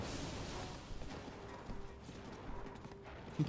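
Quiet, rapid hoofbeats of a horse on the move in The Legend of Zelda: Tears of the Kingdom, under a rumbling background, with a faint tonal hum running through.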